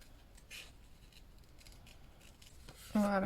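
Scissors snip through paper for a bullet journal page, giving a few soft, close cuts spread over a quiet moment before a louder sound at the end.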